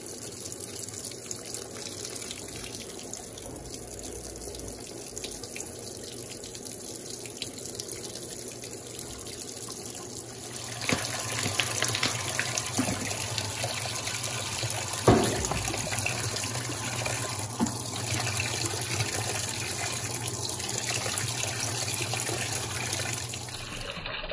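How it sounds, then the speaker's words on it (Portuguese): An Electrolux Turbo Aqua Jet LTA15 direct-drive washing machine filling as it dispenses vinegar, a steady rush of running water inside the drum that grows fuller and louder partway through, continuing without speech. "agora ela começou a despejar o vinagre"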